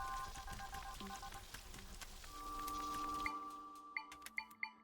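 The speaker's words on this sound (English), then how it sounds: "Oh, it's raining." Rain in the Echoes of Wisdom video game, a steady soft patter under game music, giving way near the end to a few sharper in-game effect hits.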